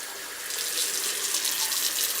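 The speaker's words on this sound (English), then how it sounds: "we need to get our tap water at the correct temperature for mixing our chemicals" Tap water runs steadily from a faucet into a sink, a continuous close hiss and splash that holds level throughout, with no voices.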